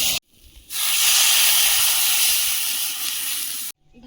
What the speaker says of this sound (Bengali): মশলাগুলো সবজির গায়ে ধরে নিয়েছে কড়ার গায়ে আর লাগছে না দেখুন এবারে জল দিয়ে দেবো